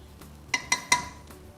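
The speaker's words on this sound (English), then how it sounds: "Give it a mix." A spoon stirs sabudana khichdi with added lemon juice in a pan, giving three quick metallic clinks close by, followed by faint scraping, with no voices.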